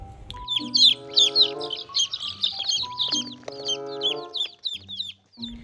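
A toy chicken clucks in a rapid series of bright, squeaky, repeated calls, loud and close, in short bursts with brief pauses between them.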